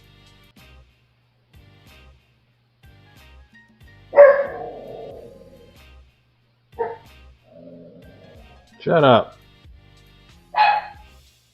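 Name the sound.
dogs barking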